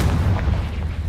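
The Confringo spell sets off a blast effect, a dense, booming roar that stays loud through the whole short moment with no voices.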